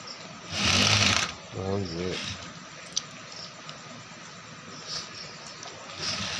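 A garment sewing machine that enlarges and shrinks cloth runs in short bursts, with a brief loud whirring stretch and a rhythmic chatter, then quieter intermittent clicks under background noise and some talk.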